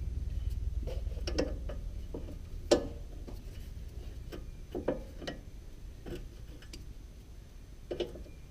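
Needle nose pliers straighten a bent metal pin while a TruHart upper control arm is fitted to a Nissan 350Z, giving scattered small metallic ticks and clicks, close and fairly quiet over a low rumble of background noise.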